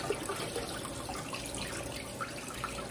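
Tap water runs while milkfish (bangus) is rinsed for homemade sardines, a steady splashing trickle into a sink with small irregular spatters, close and continuous without talk.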